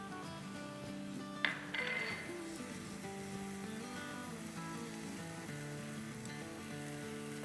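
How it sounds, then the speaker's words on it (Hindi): Kashmiri red chilies frying in hot oil, giving a steady soft sizzle that runs the whole time at low volume, with a brief clink of a utensil against the pan partway through. "इसको हम भूनेंगे अराउंड 30 सेकेंड"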